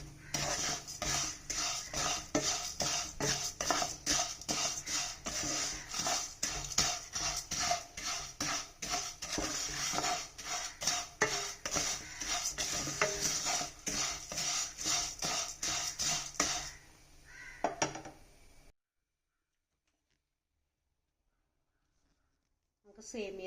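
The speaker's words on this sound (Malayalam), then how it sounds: "അതിൻ്റെ പച്ചമണം എല്ലാം പോവാൻ സേമിയം നന്നായിട്ട് വറുത്തെടുക്കണം" Vermicelli is roasted in a pan while a spoon scrapes and stirs in quick, regular strokes, a rhythmic metallic rattle that stops abruptly into near silence toward the end.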